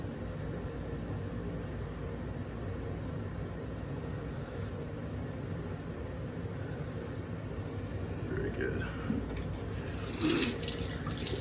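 Water runs steadily from a tap over a shaving razor blade, a constant close rushing wash with no speech.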